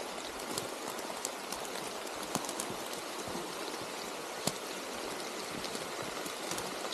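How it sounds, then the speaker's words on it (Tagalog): Steady rain hissing and pattering on surfaces at an abandoned village in Hong Kong, with occasional louder drips, continuous throughout with no voices. "Umuulan na."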